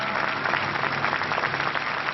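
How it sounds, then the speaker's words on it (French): Élysée Palace staff applaud warmly as Nicolas Sarkozy escorts Jacques Chirac out at the handover of power, a dense, even clapping that continues throughout. "Sous les applaudissements du personnel de l'Élysée, cette dernière poignée de main est encore plus chaleureuse que la première."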